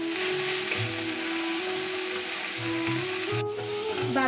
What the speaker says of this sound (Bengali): বাঁধাকপিগুলো আমি দিয়ে দিচ্ছি। আমি এগুলোকে ভালো করে ভেজে নেব।